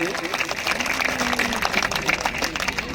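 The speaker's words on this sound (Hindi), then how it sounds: "एक बार इनके लिए भी जोरदार तालियां बजा दीजिए।" A crowd applauds the winning team at the closing ceremony of a 2025 Vagad community cricket tournament in Padoli. Dense, steady clapping fills the air while a voice carries over it.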